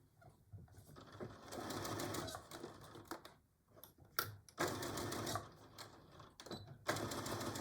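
Sewing machine back-stitching a Betty Boop pillow cover, its needle rattling in rapid stitching bursts that stop and restart several times, close by and fairly quiet.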